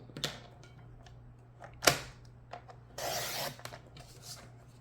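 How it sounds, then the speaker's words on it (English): A card sits in the track of a paper trimmer and is cut at an angle: one sharp snap, then a short, rasping slide of the blade across the card. Soft handling clicks and rustles come before and after. "put it in my trimmer track, both marks, and cut that at an angle"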